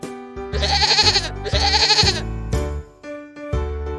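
A farm goat bleats twice in long, wavering, nasal calls, then gives shorter bleats, close and loud with no talk over it.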